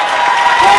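Home crowd at a 2006 World Championship women's singles badminton match applauding, a dense steady wash of clapping from a large arena audience, brief and fairly loud.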